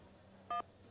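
A single short telephone keypad tone sounds as 1 is pressed to accept a call, a clear two-pitch beep lasting about a tenth of a second over a quiet line, with no speech.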